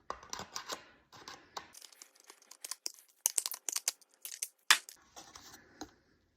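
Left-cut tin snips bite through sheet metal in a series of sharp, close, bright crunching snips, uneven in rhythm and separated by short pauses, with no voice.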